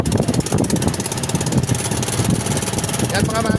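A motorcycle engine idles steadily with a continuous throbbing rumble on a street, close and fairly loud throughout, with some background noise but no clear talk.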